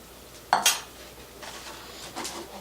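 Yeast, oil and flour for piroshki dough are mixed in a bowl, with a sharp clink of a utensil against the dish followed by softer scraping stirs, close and fairly quiet.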